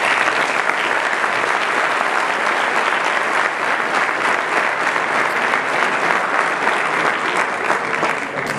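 Steady, dense applause from a full auditorium audience at a university education forum, loud and continuous throughout with no speech over it.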